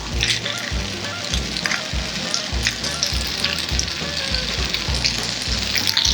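Beef for dry-fried beef ho fun is stir-fried in a wok over high heat, giving loud, continuous sizzling with rhythmic scraping and tossing strokes. The sound stays close and steady throughout.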